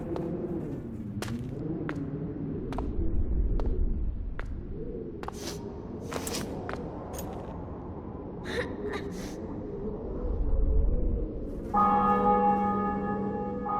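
Church bells ring during a city-capture scene in the video game The Witcher 2: Assassins of Kings, heard as scattered resonant clangs over a low rumbling backdrop, with a sustained tonal chime near the end.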